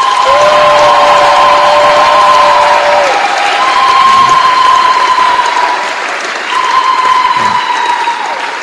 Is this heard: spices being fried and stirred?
no